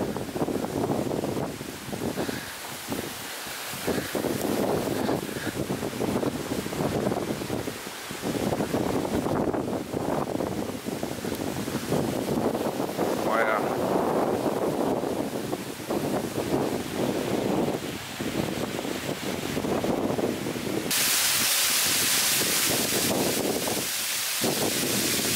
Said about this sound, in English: I think with being more exposed out here, the wind's just gone crazy.